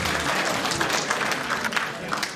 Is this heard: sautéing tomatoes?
no